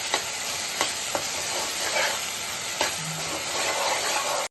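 Onions, tomatoes and a spoon of ginger paste are stirred in a hot pan for a prawn curry, with a steady loud sizzle and a few sharp spoon scrapes against the pan.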